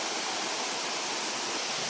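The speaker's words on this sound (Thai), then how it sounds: "น้ำตกเอราวัณชั้นที่3" The third tier of Erawan waterfall in Kanchanaburi pours with a dense, steady hiss-like rush, close and unbroken, with no voices.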